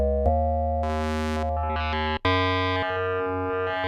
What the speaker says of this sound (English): Wave shaping distortion oscillator.